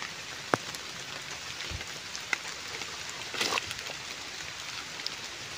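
Steady rain pattering on roof tiles, a soft continuous hiss with a few sharper drops standing out, fairly faint and with no voices.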